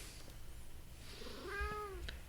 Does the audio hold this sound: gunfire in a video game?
no